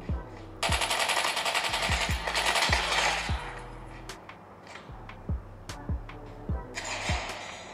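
Automatic gunfire bursts in a mobile shooting game played on a Realme GT Neo 5 phone, with long rattling volleys, single sharp shots and mechanical reload clicks over a steady game soundtrack, heard alone without voices.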